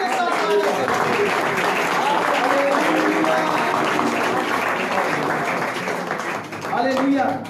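Congregation clapping along with Hindi Christian devotional singing of hallelujah, a dense steady patter of hands under loud sung voices throughout.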